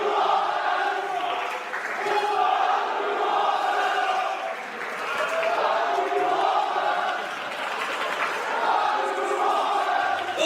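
A wrestling crowd in Thailand roars and chants in loud rolling waves that rise and fall several times, close and dense, with no talk over it.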